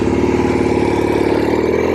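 A 1967 Norton P-11 desert racer, fitted with a rattly Atlas engine, roars steadily and loudly at close range under throttle, its dense mechanical pulsing running unbroken with no voices.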